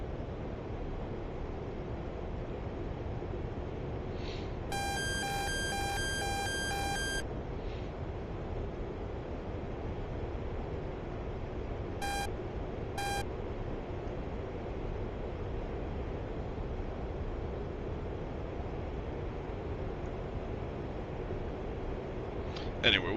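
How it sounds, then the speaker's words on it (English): Electronic warning beeps sound in an F-15E cockpit in the DCS flight simulator, a rapid burst of tones followed later by two short ones over a steady roar of engine and wind noise. "right now, it's just, you know, little warning beeps"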